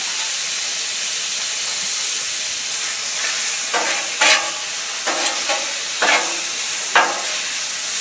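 Pork sizzles steadily on a hotplate turned down low for an Asian-style noodle sauté, a constant close frying hiss broken by several short stirring scrapes.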